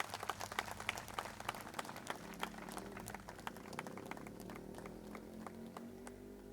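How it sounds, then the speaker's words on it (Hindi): An audience at a resort launch in Dona Paula, Goa, applauds with a steady patter of scattered hand claps that sounds faint and distant, with no talking. "जोरदार तालियां."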